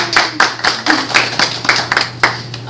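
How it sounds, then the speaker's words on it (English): A small audience claps for the four-year anniversary of a mall business, quick sharp hand claps in an uneven patter, fairly close and moderately loud. "give us a round of applause for that"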